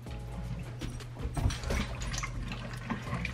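Broth pours steadily into a cooking pot with pasta for a shelf-stable pantry meal, a continuous close splashing and trickling stream at moderate level with no talking.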